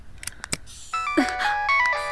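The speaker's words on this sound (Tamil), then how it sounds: "அண்ணி, மணியரசு ஃபோன்." A phone's electronic ringtone in a Tamil TV serial scene starts after a few soft knocks and clicks. It then chimes steadily at moderate volume until the end.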